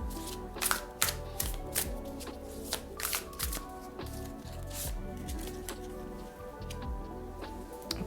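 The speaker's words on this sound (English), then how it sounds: "Let's go ahead and pull a couple of more cards." Tarot cards shuffled and pulled from a deck, a steady run of quick papery riffles and flicks with sharp card snaps repeating close up, no voices.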